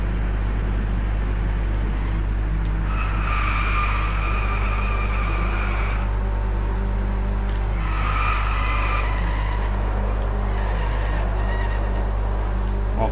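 A car drifts in Driveclub on PS4, its tyres screeching in long, loud squeals over a constant heavy engine drone, in two main bursts a few seconds each and a shorter third one.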